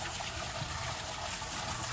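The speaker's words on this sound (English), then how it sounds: "I just turned on my waterfall." A small indoor garden waterfall made with fake wood runs with a steady splashing, gushing wash of water, close and unbroken.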